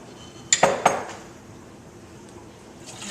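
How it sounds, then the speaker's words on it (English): A few clinks and knocks of a utensil against a pot as ketchup goes into melted butter while making Brunswick stew, three sharp hits close together, then quiet. "I'm going to add the ketchup,"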